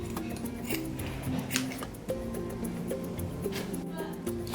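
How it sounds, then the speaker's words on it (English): Scissors snip through leftover felt, cutting it into small pieces, a series of quiet, close crisp snips at an uneven pace, with faint background noise and no speech. "I'm just gonna cut them up into smaller pieces so it's easier to put inside."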